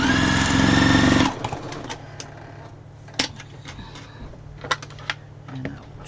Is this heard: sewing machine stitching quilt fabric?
yes